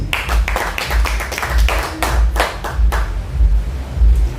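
A gathering of people claps for Roski in rhythmic bursts of close, loud hand claps with a thumping low pulse underneath, at a steady, lively pace.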